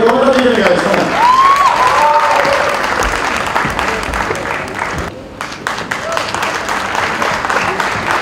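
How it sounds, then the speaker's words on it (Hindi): Studio audience on a Hindi TV dance show set gives loud, sustained applause and cheering throughout, with voices and crowd noise mixed in, thinning slightly partway before swelling again. "एक बार जोरदार तालियां दीजिएगा"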